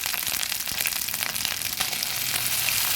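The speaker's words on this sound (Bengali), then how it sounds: "পেঁয়াজ কুচিটা ভাজা হলো আদাটা ভাজা হলো" Chopped onion and ginger fry in a pan for a katla fish curry, giving a steady, close hiss of sizzling oil with faint crackles throughout and no talking.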